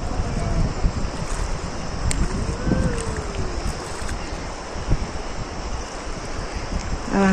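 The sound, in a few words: crossing a river on foot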